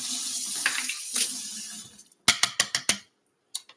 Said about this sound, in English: I'm gonna wash my black bean spoon off.